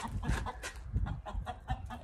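A hen on a small farm clucks in short repeated bursts, close and fairly quiet, in a steady uneven rhythm with no talking over it.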